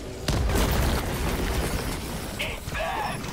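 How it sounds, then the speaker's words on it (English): A mortar shell explodes in the video game Helldivers 2: a loud, close boom bursts in and rumbles on for seconds, with a few fainter cracks and tones near the end. "That's a mortar."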